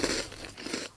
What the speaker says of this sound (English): It's the right amount of crunch and OMG, so much chocolate.